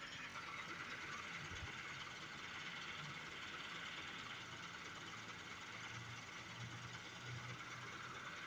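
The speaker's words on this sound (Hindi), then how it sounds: "ट्रैक्टर है।" A tractor engine runs outside, a faint, steady, distant idling drone that continues without pause and with no one talking.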